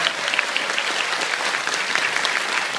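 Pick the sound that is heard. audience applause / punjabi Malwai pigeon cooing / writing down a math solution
audience applause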